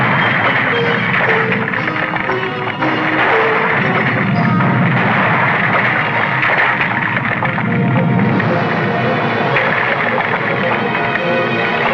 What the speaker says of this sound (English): The whole place is coming down, destroying centuries of work and history.